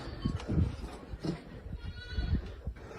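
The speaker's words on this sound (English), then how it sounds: "You hear the desperate cries of a sheep." A sheep cries out in repeated, strained bleats during a black bear attack at night, the calls loud and close in bursts with rough noise between them.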